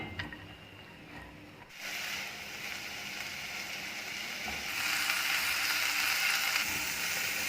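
Onions sizzle and fry in ghee in a pot, a steady close crackle that swells louder partway through, with faint stirring and no talk.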